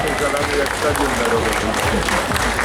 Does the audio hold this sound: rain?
no